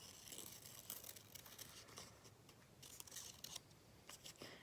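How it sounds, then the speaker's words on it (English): Scissors snip out paper circles, a faint close series of crisp cuts and rustling paper crinkles in an uneven rhythm. "I'm gonna go ahead and cut those out."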